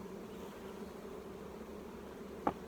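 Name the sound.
honey bees buzzing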